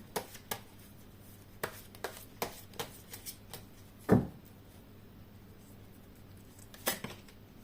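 Tarot cards being shuffled for a new draw make a series of soft, quick riffles and flicks, mostly light and close, with one louder slap near the middle.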